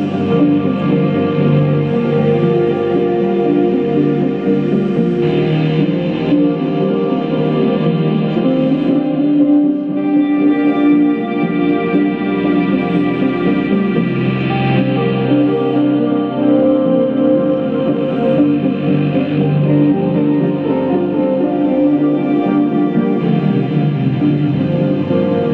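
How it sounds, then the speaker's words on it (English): Electric guitar bathed in a huge reverb, notes blooming into a long wash that sustains steadily and loudly throughout, with no voices over it. "Now there I do have a huge kind of reverb on the guitar there."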